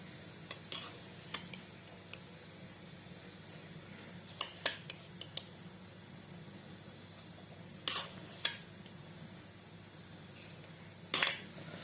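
A metal spoon stirs homemade tarhana and tomato paste in a kitchen pot, giving scattered light clinks and scrapes against the pot sides in irregular clusters over a quiet background.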